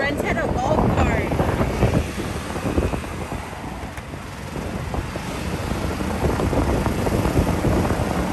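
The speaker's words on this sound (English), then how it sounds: "It's really windy" Strong wind buffets the microphone in a steady, loud roar on Isla Mujeres, heard from a golf cart near the water, with a brief voice in the middle of the gusts.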